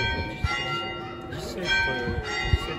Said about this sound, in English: Chime and clocks.